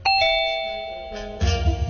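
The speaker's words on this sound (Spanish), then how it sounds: "Toco el timbre." A doorbell rings out with a clear two-tone chime that rings on and fades, followed by faint shuffling noises.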